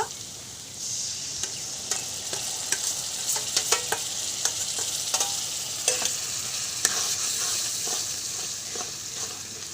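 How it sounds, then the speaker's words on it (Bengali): Spice masala with beaten sour curd sizzles steadily in hot oil for a prawn kofta curry, scraped by a spoon in short irregular strokes, close and moderately loud with no talking. "দইটা দিয়ে আমি 3 থেকে 4 মিনিট মতন আরেকটু কষিয়ে নেব মশলাটা।"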